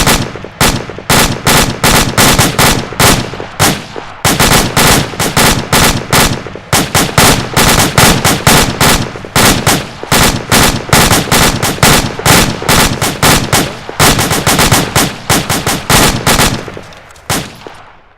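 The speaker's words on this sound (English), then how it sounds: "Alpha, open fire. Alpha, open fire. Alpha, fire, fire, fire." Sustained automatic gunfire in a combat video game, loud and near, with rapid bursts of shots hammering almost without pause throughout.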